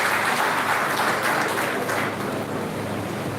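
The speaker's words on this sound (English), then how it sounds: "Please give yourselves a big round of applause." Sustained applause from a seminar audience at a police command security gathering, dense and steady throughout, with loud continuous clapping that thins slightly toward the end.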